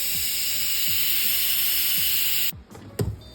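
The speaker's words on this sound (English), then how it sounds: "the pressure cook is done. I'm gonna let it steam out." A pressure cooker vents steam in a loud, steady hiss after cooking smoked turkey wings, cutting off abruptly and leaving a few clanks and knocks.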